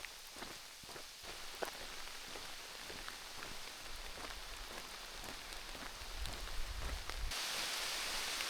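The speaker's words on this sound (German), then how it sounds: "Hat jetzt nochmal angefangen zu regnen." Rain patters steadily on a surface with scattered distinct drops, growing louder and denser toward the end, during a hike in Albania and Montenegro.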